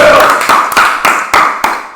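A short round of applause for Jacob, six or seven sharp, evenly spaced claps from a small group, loud and close, each one trailing off quickly.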